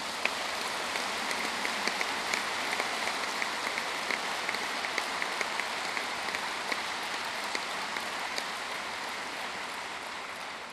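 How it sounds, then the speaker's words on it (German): Sustained applause fills a party convention hall, a dense, even crackle of many hands clapping steadily throughout without pause. "Den Applaus habe ich jetzt gar nicht erwartet, aber ist schön."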